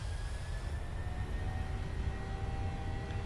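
Steady jet engine roar from a Boeing 737 on its takeoff run, simulated in a flight simulator, a continuous broad rumble with faint high whine tones and no talking.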